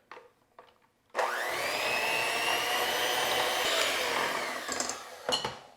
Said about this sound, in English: Now, with a mixer, let us cream these together.